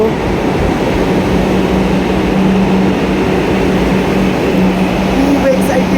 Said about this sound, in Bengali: ফাইনালি চলে এসছে আমাদের মেট্রো